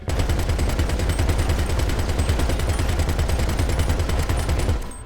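A large machine gun turret in GTA V fires a long, unbroken burst of rapid, evenly spaced shots, loud and close, for about five seconds before stopping abruptly.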